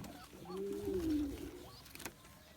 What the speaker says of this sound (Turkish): dediğimiz yüksek uçucu güvercinler var